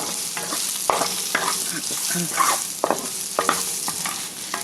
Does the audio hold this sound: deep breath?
no